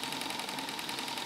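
A Stuart model steam engine running on a gas-fired boiler at about 20 psi, giving a fast, steady rhythmic chuffing and mechanical clatter, close and continuous.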